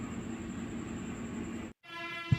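Metro train running with a steady, continuous rumble and high whine, briefly cutting out before resuming with a sharp knock near the end, no talk.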